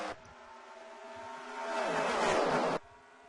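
NASCAR Sprint Cup race cars at Texas roar down the back straightaway, a sustained engine whine swelling louder as the pack passes close, then cutting off sharply.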